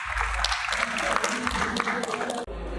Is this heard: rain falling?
no